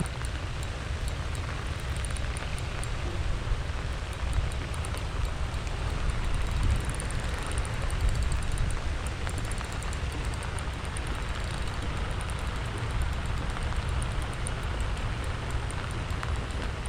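Heavy rain pours down during a storm over a large fishing pond, a steady, dense hiss with some wind that lasts throughout at moderate, even loudness.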